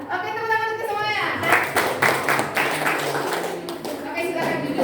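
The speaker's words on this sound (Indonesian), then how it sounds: "Oke, tepuk tangan untuk semuanya." Children in a classroom clap together for everyone, a burst of scattered hand claps that swells mid-clip, mixed with a teacher's voice and chatter throughout.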